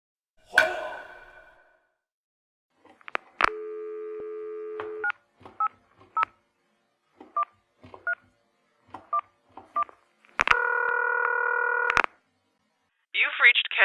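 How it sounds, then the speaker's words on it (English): A telephone call being placed: bursts of touch-tone DTMF dialing beeps, then steady ringback tones, with a few short tonal pips between, loud and clear with no talking over them. "Over the phone, someone from the repair shop calls Emily."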